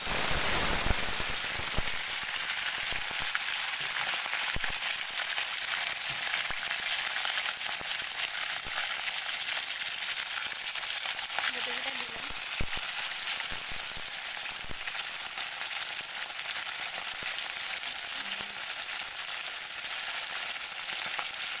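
Mirika fish frying in a pan, a continuous crackling sizzle with scattered sharp pops, steady and close across the whole span, with a few faint sounds in the background.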